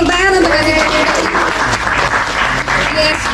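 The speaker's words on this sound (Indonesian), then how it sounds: "Adik-adik kita berikan tepuk tangan untuk adik-adik." Loud, dense applause from a room full of people welcomes children at a ventriloquist community gathering, with voices and chatter mixed through the clapping.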